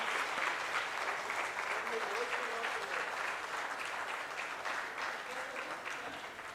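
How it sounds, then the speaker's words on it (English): Steady applause from an audience at an international Brahmo conference session, continuous broadband clapping holding at an even level for several seconds, with faint voices underneath. "You all can clap for the people also while we are taking names"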